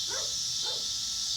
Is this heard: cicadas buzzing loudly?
no